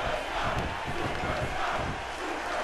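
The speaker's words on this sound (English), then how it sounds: "the crowd trying to get behind Brian Barbados and Zack Ryder" A wrestling arena crowd roars and chants in a steady, loud, dense wash of voices, continuous from start to finish.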